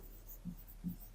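A pen scratches on paper in two soft, quiet strokes, faint against low room hiss.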